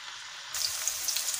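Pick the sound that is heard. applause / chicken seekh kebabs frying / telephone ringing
chicken seekh kebabs frying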